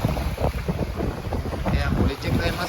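Strong wind roars and buffets the microphone on open water at a tilapia fish pen in a bay, a loud, continuous gusting rush with faint boat and water sounds beneath.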